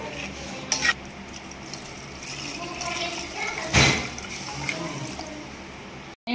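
Water pours steadily into a cooking pot of rice, yogurt and chicken stock for chicken yakhni pulao, a continuous splashing rush heard close up with a short louder gush partway through.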